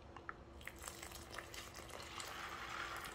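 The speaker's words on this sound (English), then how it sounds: "You could hear the water flowing through the grains there." Water swishing and trickling through grains as they are stirred, a faint, close wet rustle with soft gurgles that builds slightly toward the end.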